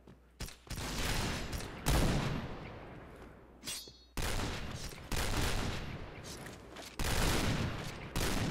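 Gunfire from the shooting video game Point Blank: repeated bursts of rapid automatic shots and single loud cracks, close and punchy, separated by short pauses.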